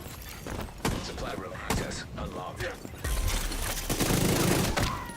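Sustained bursts of automatic fire from a large-magazine gun in The Division 2 against heavily armored enemies, loud and dense with rapid repeating shots and impacts across the whole span, busy game action throughout.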